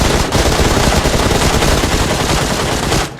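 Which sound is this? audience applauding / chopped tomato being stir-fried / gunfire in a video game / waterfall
gunfire in a video game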